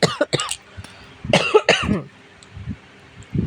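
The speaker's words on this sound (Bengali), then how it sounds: "এত কাশি হচ্ছে কথা বলতেও পারছি না" A cook coughing in a home kitchen while making lentil fritter curry, several sharp harsh coughs in quick bursts close to the mic, followed by a few softer throat sounds.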